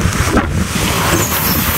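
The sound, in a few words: strong wind at sea in the mangroves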